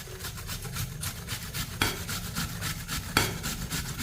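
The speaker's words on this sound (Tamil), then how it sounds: "இப்போ நம்ம கட் பண்ண ஆப்பிளை இதில் துருவிக்கிடுவோம்." A cut apple is grated for a weight-loss ABC salad, giving a steady, close rasping scrape that repeats in quick strokes throughout, with a couple of sharper knocks, and no voices.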